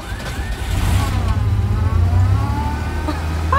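A freshly rebuilt Ford 300 inline six engine fires on its first start and revs up loudly nearby, the steady engine drone rising and settling with a few pitch swings.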